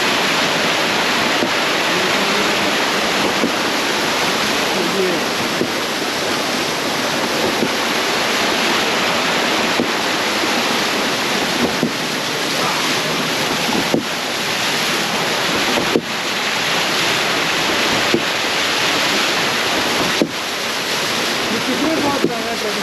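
Water rushing steadily through a century-old traditional water mill used to husk rice in Leepa valley, a continuous broadband roar with speech over it.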